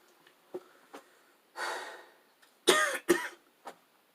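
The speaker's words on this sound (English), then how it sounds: "I just coughed from talking too much." A person coughing close to the microphone, a few short throat-clearing hacks, a longer raspy cough, then two loud coughs in quick succession and a final small one, with no speech.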